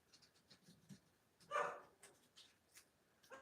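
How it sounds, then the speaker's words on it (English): A dog barks and whimpers indoors during a watercolor crafting session, a few faint, short yips and one louder bark midway, heard alone against low room noise. "I hope that it's not too difficult to hear me over her barking."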